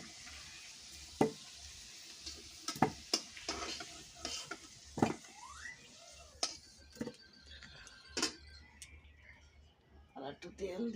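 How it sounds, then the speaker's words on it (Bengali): Potatoes frying in hot oil until reddish while making a country-chicken curry, with stirring scrapes and clinks over a steady sizzle and a few faint voice bits. "আলু উঠে নিচ্ছি আমি, এবার লাল লাল করে ভেজে নিচ্ছি।"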